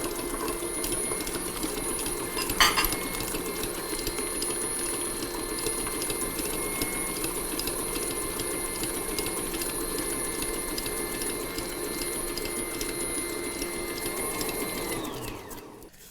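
A Hobart HL6 stand mixer runs steadily with eggs in the bowl, giving a continuous mechanical whir with a brief clatter near the start, then winding down at the end.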